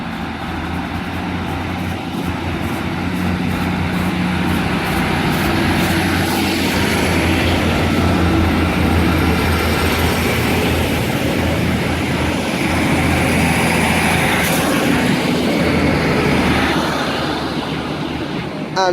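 A Class 156 diesel multiple unit pulls out of Deansgate station in Manchester on a service to Manchester Airport, its engine droning loud and steady throughout with a low rumble, close by and without talk.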